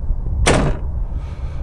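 A door opens in the horror video game Ao Oni with a single short, bright burst of noise lasting about a third of a second, set against a faint low background hum.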